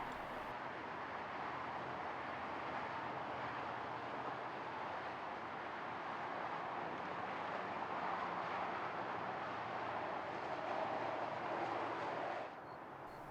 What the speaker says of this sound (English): Another train was filmed crossing over the Santa Ana River